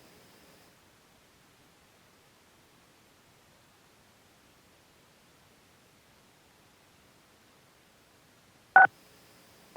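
Two short telephone keypad tone bursts, a star then a six, pressed during a public commission meeting call to unmute the line, loud and alone after a long near-silent stretch.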